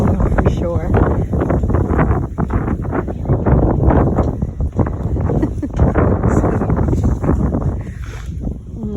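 Strong wind buffeting the microphone near Skógafoss waterfall in cold weather, a loud constant roar with gusts throughout, with no clear speech.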